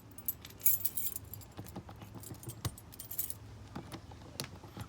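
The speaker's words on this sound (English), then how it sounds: "We've got a whole bunch of keys and we have no idea what they go to." A bunch of keys jangles close up in repeated bright metallic shakes and clinks, handled outdoors beside a 1983 El Dorado RV.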